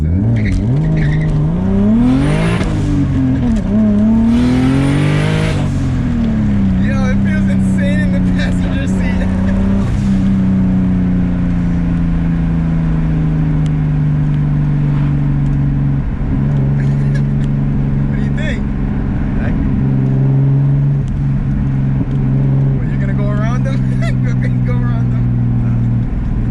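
A turbocharged BMW E30 with an M50 engine revs hard through the gears, its rising engine note climbing and dropping at each shift, loud and close, with people talking over it.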